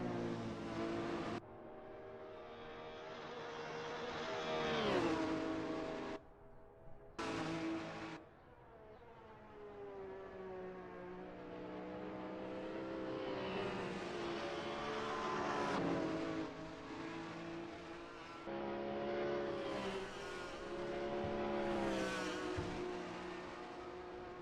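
Alfa Romeo race cars circle a circuit during an endurance championship race, engines droning and rising in pitch with harmonic whine, passing near and loud with brief gaps, no voices.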